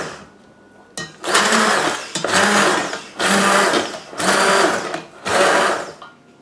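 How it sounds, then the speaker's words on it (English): A hand blender pulsing through roasted red pepper and tomato soup, five loud whirring bursts of about a second each, separated by short pauses, close up. "Notice while I'm blending I've got my hand on top of the handle pushing down because that is safer."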